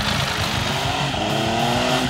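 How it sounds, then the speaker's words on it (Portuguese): Liquid-cooled three-cylinder DOHC 12-valve engine of a Benelli TRE 1130K motorcycle, a loud, steady, close engine roar held at constant revs with no talking. "O motor, com 3 cilindros DOHC, 12 válvulas, arrefecido a líquido, anda muito na versão italiana."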